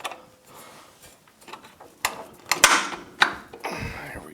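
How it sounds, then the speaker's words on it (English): An axle is pulled through the wheel hub of a Yamaha YXZ1000, producing creaking, clunking metallic scrapes and knocks at close range, building to a few sharp louder bangs near the end. "See if we can get this to pull through the hub."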